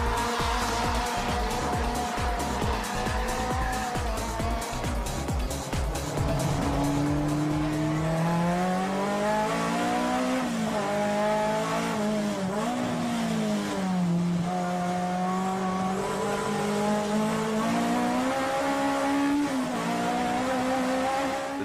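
A D1 drift car driven by Hibino Tetsuya howls around Nakayama circuit, its engine revving up and down steadily with tire squeal, close and loud from onboard throughout.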